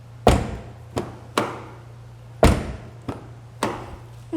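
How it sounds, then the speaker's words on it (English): Several solid door thuds from a 2021 Jaguar XF closing, in an uneven sequence, each a sharp close followed by a short decay, with a low steady hum underneath. "let's close these doors and see how they sound in the back"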